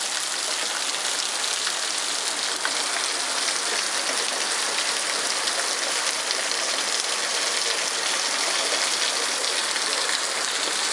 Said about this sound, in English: This is Ohio, we get rain.